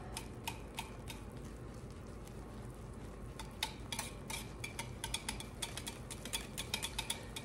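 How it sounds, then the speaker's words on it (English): A whisk stirs thick hot process soap batter with activated charcoal, giving a steady scraping swish with frequent light clicks against the pot, close and moderately quiet, with no talking. "put some elbow grease into it and keep stirring and stirring"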